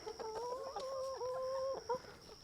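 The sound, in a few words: chickens clucking at feeding time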